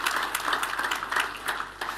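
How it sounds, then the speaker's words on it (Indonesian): A church congregation claps together in fairly steady, moderately loud applause that fills the space. A few brief louder bursts rise out of the clapping. "Kita tepuk tangannya boleh yang paling meriah buat Tuhan kita."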